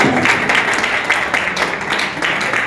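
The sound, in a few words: audience applause at a trophy ceremony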